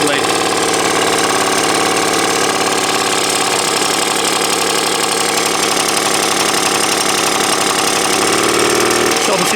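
1970s Puch Magnum X 50cc kids' dirt bike scrambler with a twist-and-go centrifugal clutch, its small engine idling steadily and loudly up close with a constant rapid putter.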